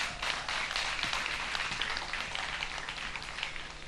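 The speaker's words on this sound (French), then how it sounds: "On peut applaudir." An audience applauds during a Côte d'Ivoire music talk show, a dense, steady wash of clapping that holds at even loudness throughout.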